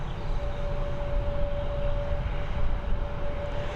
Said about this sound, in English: Heading over to Istanbul, this A321neo.